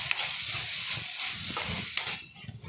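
Carrot halwa with milk, sugar, dry fruits, cardamom and nutmeg powder stirred in a pan, a soft bubbling hiss with a few scraping spoon strokes, close and brief, no talking.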